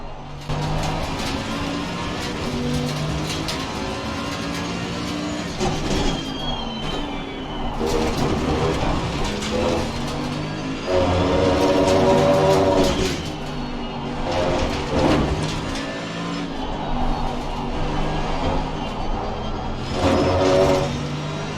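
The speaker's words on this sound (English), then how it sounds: "I'll leave you with the car sounds" A race car engine in Assetto Corsa Competizione roars steadily, with revs rising and falling through gear changes and a harsh, buzzing whine that swells loudly at moments.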